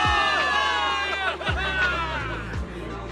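A loud crowd cheers and whoops in the video game Zenless Zone Zero over a driving synthesized music track, with a heavy bass hit pulsing every second or so.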